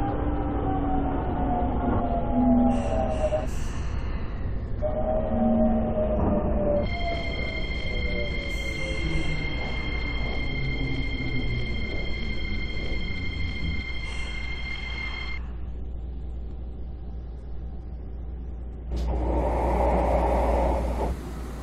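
An Incheon Line 1 subway train stands at a station, its motor whine and hum falling as it halts, then steady tones and rumble before the drive rises again; no talk.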